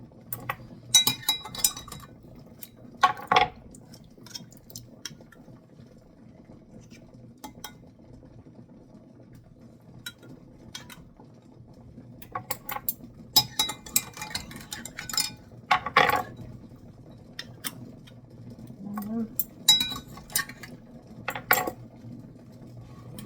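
Glass kimchi jars and hot metal canning lids clink and clatter in scattered bursts, close by, with quiet pauses between the handling sounds and no talking.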